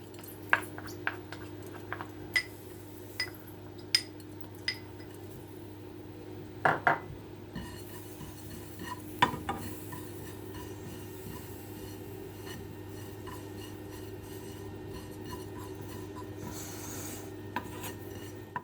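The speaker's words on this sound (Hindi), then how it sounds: "ये सफ़ेद ज़ीरा और अजवाइन है, इसे हम ड्राई रोस्ट करेंगे।" Whole cumin and ajwain seeds dry roasting in a pan, giving a soft dry scraping rasp with scattered sharp clicks and taps against the metal over a steady low hum, with no talking.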